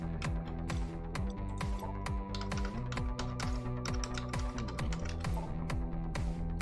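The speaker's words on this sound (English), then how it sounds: "I'm typing fast, leave me alone." Rapid typing on a computer keyboard, a dense run of close, crisp key clicks in uneven bursts over a low steady background tone, with no speech.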